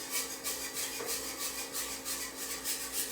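A whisk scrapes around a bowl with a steady, rhythmic rubbing stroke that repeats several times a second, close and moderately loud, with no voices over it.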